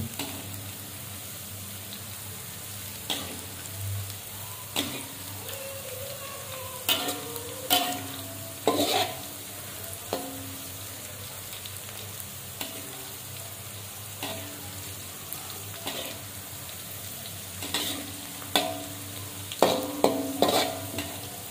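Chili sambal sautéing in a pan over medium heat, with a soft continuous sizzle broken by intermittent scraping stirs of a utensil against the pan, close by and fairly quiet.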